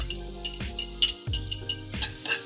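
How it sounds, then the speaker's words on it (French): Minced garlic sizzling in hot olive oil in a frying pan while being stirred, with a steady crackle broken by the clinks and scrapes of a utensil against the pan, close up and with no talking. "Je fais revenir l'ail."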